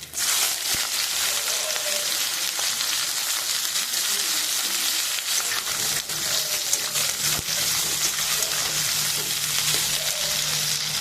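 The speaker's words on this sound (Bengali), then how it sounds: "ফোড়নে দিয়ে দেবো গোটা গরম মশলা। এখানে দিয়ে দেবো 2টো তেজপাতা, দিয়ে দেবো কাটা পেঁয়াজ" Whole garam masala, two bay leaves and chopped onion fry in hot oil, a steady loud hiss and crackle that persists throughout, with occasional sharper clicks of stirring.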